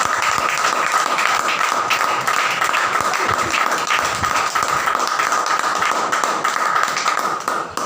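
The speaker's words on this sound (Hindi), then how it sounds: "एक बार जोरदार तालियां" A crowd claps enthusiastically, a dense continuous applause with scattered sharper claps that holds steady for several seconds.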